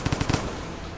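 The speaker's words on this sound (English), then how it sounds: "These nuts would, by the nature of the plant, contain trace elements of sulfur or other forms of volatile materials, which upon being disturbed would explode" Gunpowder nut plant from the Rain World video game bursting in a quick string of four or five sharp, loud explosive pops that fade into a soft lingering tail.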